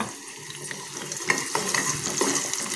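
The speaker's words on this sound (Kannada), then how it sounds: "ತುಪ್ಪಕ್ಕಾದಮೇಲೆ ಈ ಗೋಡಂಬಿ ಸ್ವಲ್ಪ ಫ್ರೈ ಆಯಿತು ಅನ್ಬೇಕಾದ್ರೆ ಈ ದ್ರಾಕ್ಷಿ ಹಾಕೊಳ್ಳೋಣ." Cashews and raisins fry in hot ghee for a rice flour payasa, a close, steady sizzle with light stirring scrapes throughout.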